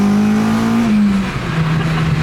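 A stripped-out Honda Civic EP3 Type R drives on the road, its engine giving a loud, steady buzzing drone that dips slightly in pitch as it eases off, heard up close.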